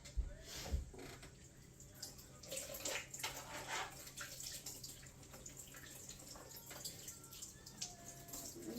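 Running water from a tap while cut-up food is rinsed in a kitchen sink, a steady close splashing wash with occasional clatter, lasting throughout.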